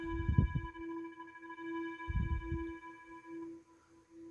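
An Animoog synth app on an iPad plays an abrasive square-wave tone, a steady buzzing drone with faint low thumps, sustained for about three and a half seconds before fading.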